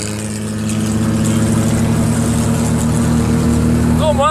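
An IKA Jeep fitted with a Falcon engine drives along the road, its steady engine drone rising slightly and holding close and loud throughout.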